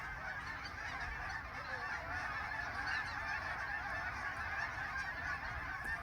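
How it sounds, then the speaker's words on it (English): A big flock of geese passing overhead, honking continuously in a dense, overlapping chorus that stays fairly steady and moderately distant throughout, with no talking. "a big flock of geese came through"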